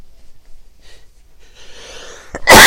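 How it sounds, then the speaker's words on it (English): A man draws in a few wheezy, rising breaths and then lets out a loud, close sneeze at the very end. "I'm going to sneeze again."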